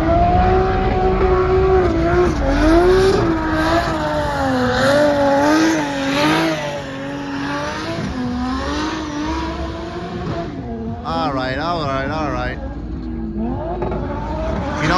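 Drag racing cars at Wild Horse Pass Motorsports Park in Chandler, Arizona, with engines droning and revving loudly throughout, pitch rising and falling in long sweeps, a higher whining rev near the end over steady crowd and track noise.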